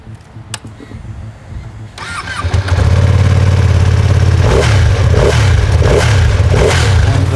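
A Ducati Panigale V2 superbike engine cranks and catches after about two seconds of quiet rumble, then settles into a loud, steady idle with a few blips of revving close by.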